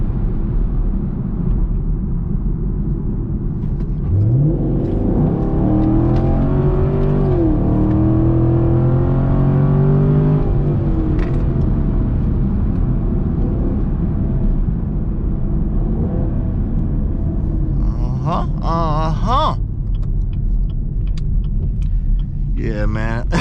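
Chevrolet Camaro SS driving at night, a loud steady engine rumble with rising and falling revs as it accelerates, close up, with a brief burst of higher-pitched noise near the end.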